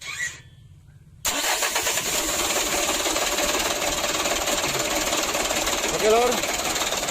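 A Mitsubishi Canter truck's diesel engine cranks and catches after a brief quiet moment, then runs loud and steady with a rough, knocking idle close by, a faint voice briefly heard over it.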